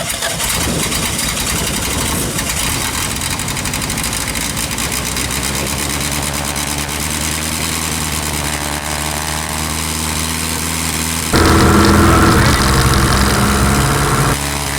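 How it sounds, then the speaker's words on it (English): A Sonex light aircraft engine runs steadily on the ground, loud and close with a continuous throbbing drone, then surges even louder for a few seconds during a run-up before settling back. "I let it run for a while, monitoring T's and P's and doing a few run-ups."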